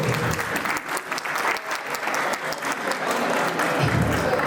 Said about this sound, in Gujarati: તાળીઓનો ગણગણાટ તો જોઈશે